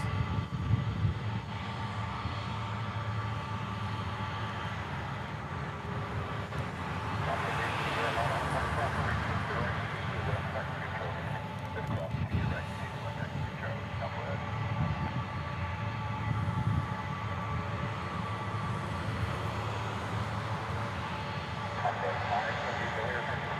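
Military fighter jets, F-22, F-35 and F-15, pass overhead above a house in Hawaii, a steady broad roaring rumble that stays loud throughout with slight surges, with no voices.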